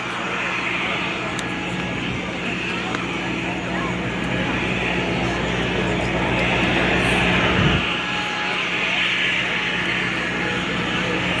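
A Lockheed Martin AC-130J Ghostrider gunship makes a flyby at a West Virginia airshow, its steady broadband propeller and engine roar loud and continuous, swelling slightly mid-pass, with a crowd ambience underneath.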